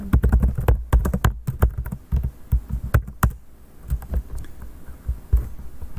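Fast, loud clatter of typing on a computer keyboard while writing code, dense bursts of keystrokes close up with brief pauses, and no voice.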